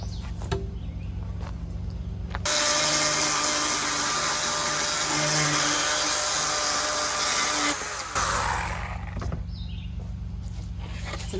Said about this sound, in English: All right, a couple more to cut here